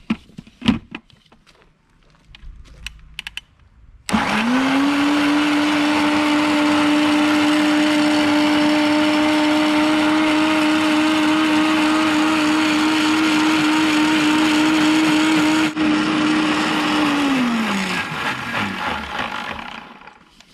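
An electric mixer grinder whirs loudly as it blends garlic with water, starting with a sudden steady high whine after a few soft handling clicks, holding for about thirteen seconds, then winding down as it stops.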